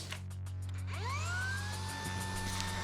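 The small motor of a DeWALT DWH161N cordless dust extraction system whines as suction spins up, its pitch rising then holding steady in a continuous buzzing hum.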